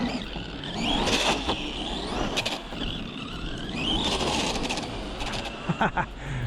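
An ARRMA Gorgon RC car fitted with a wheelie bar whines along on its rear wheels, its electric motor rising and falling in pitch over a sustained run, with a brief voice in the background.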